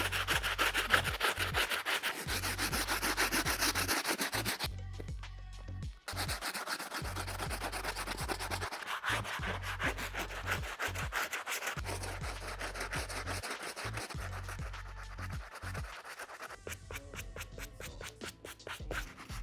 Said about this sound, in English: let's get on it with the stiff bristle brush